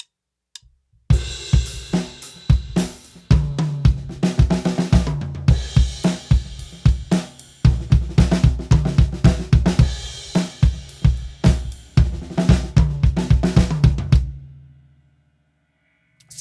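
A drum kit plays a fill in which the bass drum doubles quarter notes with added eighth notes, giving a dense, punchy run of close, loud hits for about thirteen seconds before stopping and ringing out.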